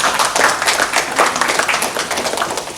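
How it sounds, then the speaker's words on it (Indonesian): Applause breaks out for a speaker at a community arts forum of Banyuwangi visual artists, a dense wash of hand claps filling the room steadily for a few seconds, fairly close and loud. "Tepuk tangan untuk Mas Imam."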